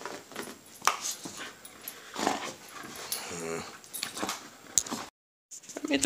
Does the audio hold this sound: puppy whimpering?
yes